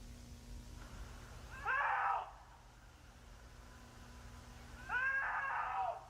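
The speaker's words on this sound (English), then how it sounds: "Sounds like a stock cougar sound effect." Stock cougar scream sound effect: two harsh, screeching cat-like cries, each lasting about half a second to a second and separated by a few seconds of low hum.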